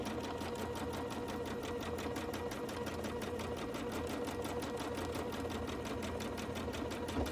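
A sewing machine quilting stitches on a quilt runs continuously and evenly throughout, with a rapid, steady mechanical chatter close by.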